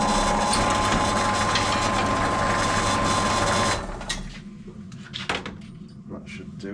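Loud, steady power drill boring oversized countersink holes into a Yamaha XT660 motorcycle number plate for about four seconds, then it stops, leaving quieter handling clatter and light knocks.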